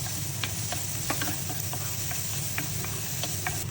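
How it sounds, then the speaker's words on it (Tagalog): Garlic and onion sautéing in a pan for Filipino corned beef macaroni soup, a constant close sizzle broken by light ticking scrapes of a spatula at irregular intervals, with no voices. "Lalagyan na natin yung garlic at onion. Igigisa lang natin itong mabuti."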